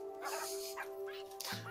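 Dogs from the Minecraft video game, a whole pack of them, yip and whimper softly over a steady background hum, with brief overlapping bursts through the short stretch.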